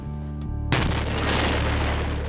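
Dynamite detonates inside a room being painted, producing a sudden, powerful boom followed by a long, loud roaring wash of noise and debris that fills the space.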